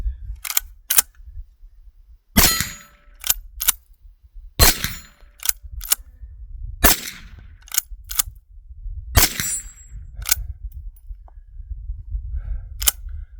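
Shots from a Winchester 9422M lever-action rifle at steel targets 50 yards away. A dozen or so loud, sharp cracks come at irregular intervals, some closely paired, over low background rumble.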